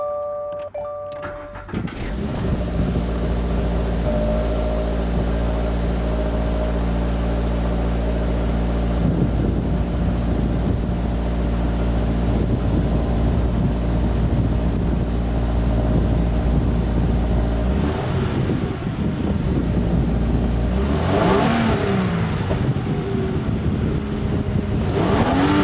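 A 2022 Subaru BRZ sports car starts with a short cranking burst, then settles into a loud, steady idle, broken by a couple of throttle blips that rise and fall in pitch; heard close and alone, with no talking.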